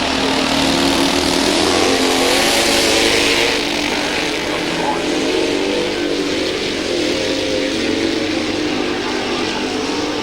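Vintage speedway sidecar racing engines at a classic meeting roar continuously nearby, loud and rasping, with an engine pulling away as the pitch and level shift slightly over the ten seconds.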